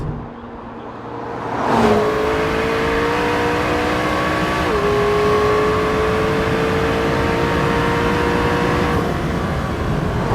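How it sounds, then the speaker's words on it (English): A McLaren 650S with a 3.8-liter twin-turbo V8 revs loudly and close, its engine note climbing in steady sweeping steps and holding a rising whine with no voices. "I love that you can hear the turbos spool up too."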